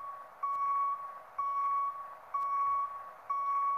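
Repeated truck backup alarm tones in Cargo Transport Simulator, four evenly spaced beeps over a low rumbling background, clear and prominent with no voices.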